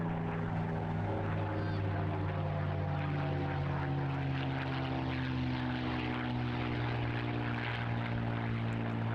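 A Spitfire propeller fighter making a topside pass at the Eastbourne International Airshow, its piston engine droning loud and steady throughout, a rich sustained harmonic roar with no talking over it.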